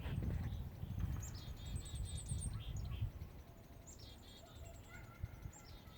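Several small birds chirping and twittering in bursts over a steady low street rumble, moderately close.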